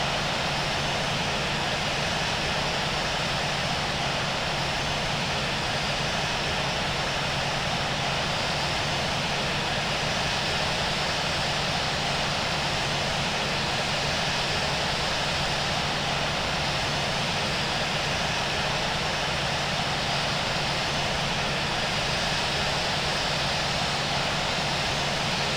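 A KLM Cityhopper Embraer E190 jet taxiing at London Heathrow in the Infinite Flight simulator, giving a steady, loud engine whine and roar that holds without change throughout.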